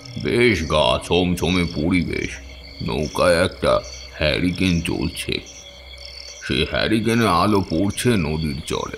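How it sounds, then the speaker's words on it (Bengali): Crickets chirp steadily from a nearby forest in a narrated horror audio story set on a river at night, a thin continuous chirring kept low beneath a person's constant narration. "পাশের জঙ্গল থেকে ঝিঝি ডাকছে।"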